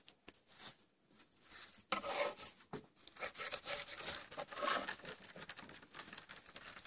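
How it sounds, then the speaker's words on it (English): A knife slices through a walleye during filleting, giving soft wet crinkling, rubbing and scraping sounds in short uneven strokes, close and fairly quiet, with no talking. "Just cut right through there, and then you'll see the belly start to be exposed."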